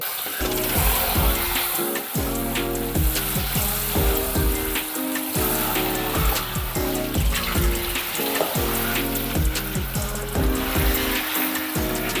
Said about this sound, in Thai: เราก็ล้างน้ำเปล่าออกได้ตามปกติเลย